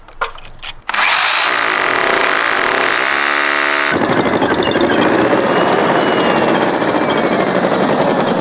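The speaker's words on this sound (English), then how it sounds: "we're now going to be using a 6mm SDS bit on an SDS drill to make a pilot hole" An SDS hammer drill with a 6mm bit bores a pilot hole through brick, starting with a few short bursts and then running as a loud, steady, continuous hammering grind close by.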